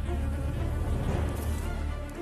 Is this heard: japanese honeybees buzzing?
yes